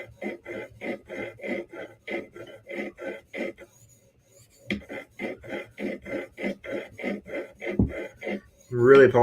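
A knife heel being polished on a sharpening stone, strokes rasping in a steady rhythm of repeated short passes, close and clear, with a brief pause midway and a louder scrape at the end.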